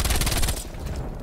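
Rapid bursts of MAC-10 submachine gun fire in a first-person shooter video game, fired with a combat stock, rattle loudly for about half a second and then give way to a fading echo.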